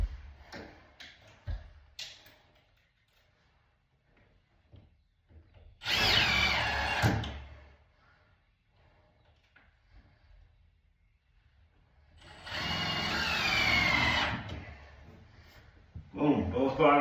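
A power drill drives screws into the bottom track of a bifold door, two loud whirring bursts a few seconds apart, with someone talking quietly between them and light tool clicks.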